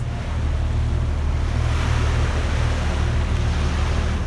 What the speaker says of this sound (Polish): Krążownik USS Indianapolis sunie przez spokojne fale z prędkością około 17 węzłów.